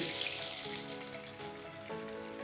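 Tomato and pomegranate molasses hit a hot pan of green hummus ingredients on a switched-off stove, giving a steady close sizzle with watery crackle that eases slightly partway through.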